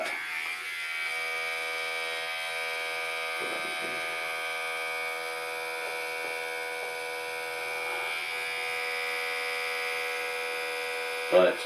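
A rotating-oscillating electric toothbrush running with a steady, even high-pitched whine and buzz that holds constant throughout, with a few faint clicks and a brief thump at the end.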